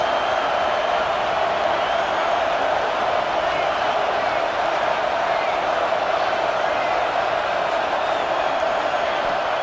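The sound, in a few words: stadium crowd noise in a football video game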